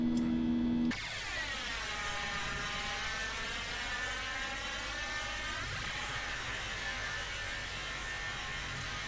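Boeing 737 landing gear retracting just after takeoff, a steady mechanical whir with a falling then rising tone over the constant loud roar of the climbing jet, heard from inside the aircraft with no talking.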